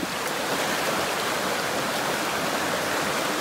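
Rain falling beside a forest stream, a dense, even hiss of water that stays steady and fairly soft throughout, with no voices.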